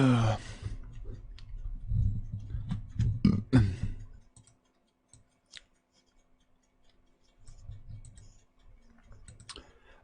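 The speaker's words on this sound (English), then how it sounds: "you can apologise for burping twice into the microphone too while you're at it." Someone burps loudly into a microphone, with heavy low bursts crowding the first four seconds, then near silence broken by faint clicks and a softer rumble.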